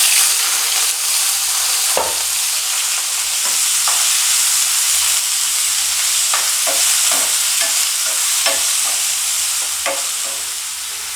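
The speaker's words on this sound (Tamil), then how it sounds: "கடுகு பொரிஞ்சோடனே பொடியை நறுக்கி வச்சுக்கிட்டு சின்ன வெங்காயத்தை போடுறேன்." Chopped shallots fry in hot oil with mustard seeds for a mushroom gravy, giving a steady, close sizzle throughout, broken by occasional soft scrapes and clicks of stirring, with no talking.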